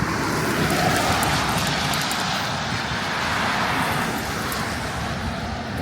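A car drives along Ritson Road, heard as a steady, loud road and engine rumble with an even hiss that continues for the whole stretch, with no voices.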